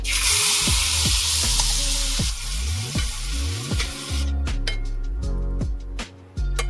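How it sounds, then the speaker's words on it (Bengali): Fish fries in hot mustard oil with black cumin, a loud bright sizzle that fills the first few seconds, then eases into quieter spitting with occasional clinks. "তেলের মধ্যে দিয়ে দেবো আস্তে করে মাছটা"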